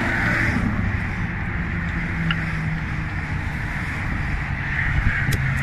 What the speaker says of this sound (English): This is the busiest highway in the world.